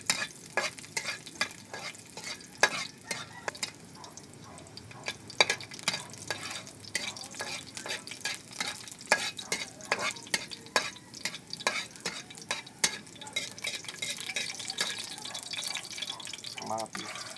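Garlic fries in a little oil while being stirred, with a faint sizzle under repeated sharp clinks and scrapes of a spatula against the pan, close and irregular.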